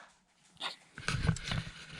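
A dog in a garage pants and whimpers close by, a short quiet whine followed by a burst of rapid, louder breathy panting.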